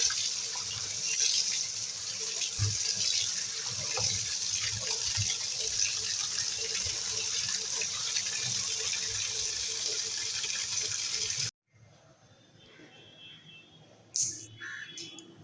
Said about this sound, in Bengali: শাকগুলো ভালো করে বাছা হয়ে গেছে ধুয়ে নেব পরিষ্কার করে ধুয়ে নেবো